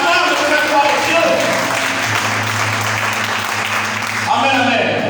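A church congregation claps and cheers loudly for God, a dense sustained roar of applause with a voice calling out over it that fades near the end.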